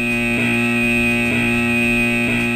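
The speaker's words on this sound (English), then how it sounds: "The shelter alarm sounds like this." A continuous, loud electronic tornado shelter alarm drones with a steady buzzing tone, pulsing slightly about once a second.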